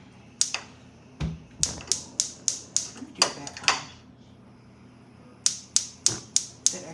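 A gas stove burner igniter clicks in a home kitchen: sharp, crisp ticks in quick trains, with a few ticks first and then a second run of rapid clicking after a short pause, heard close.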